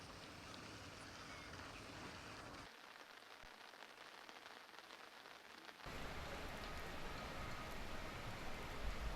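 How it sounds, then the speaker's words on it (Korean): Steady rain falling in a city during a summer downpour, a dense even hiss of drops that drops quieter for a few seconds mid-clip and then returns fuller and louder, with no voices. "현재 내리고 있는 비는 밤에 약하게 내리다가 점차 멎을 것으로 예견된다고 합니다."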